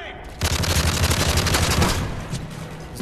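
Dense automatic gunfire in Call of Duty: Modern Warfare 3, a loud continuous rattle of rapid shots starting after a brief pause and holding for nearly the whole span, with a player's voice faintly mixed in.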